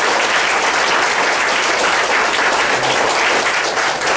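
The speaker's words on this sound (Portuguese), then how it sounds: "Vamos aplaudir Jesus mais uma vez?" Church congregation applauding loudly and steadily, a dense, continuous clapping that fills the hall for a few seconds with no voices above it.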